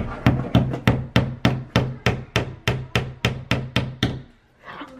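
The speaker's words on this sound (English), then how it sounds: "All right, ready to hammer it in?" Hammer blows drive a nail into a wall to hang a canvas horse print: about fourteen sharp, evenly spaced strikes at close range. A brief voice follows once the hammering stops.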